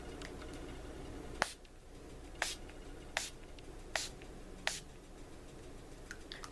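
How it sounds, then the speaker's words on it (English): A bottle of Dollar Tree charcoal setting spray is pumped in a series of about six short, crisp mist bursts, close and roughly a second apart, with nothing else but a faint room hiss between them. "So, yep, let's just spray some of this on."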